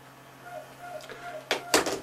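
Top cover coming off a Sony CDP-CX300 compact disc changer: two sharp close metallic clacks near the end, after a quiet stretch with faint rustling handling noise.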